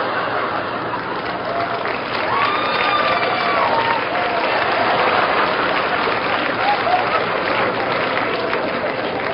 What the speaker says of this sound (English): Yeah, you clap.